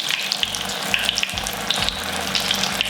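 Apple fritters (beignets) bubble in hot oil with a bright, crackling sizzle and scattered sharp pops, close and steady, with faint clinks as they are turned.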